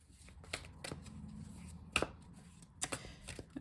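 Oracle cards being shuffled by hand, a run of crisp riffling flicks and soft slaps with a few sharper snaps, close and clear with no talking.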